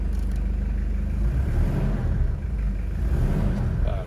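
A 1994 Toyota Land Cruiser KZJ73 with the 1KZ 3.0-litre turbo diesel and dual batteries runs steadily close by, a low rumbling drone with even engine pulsing and no voices.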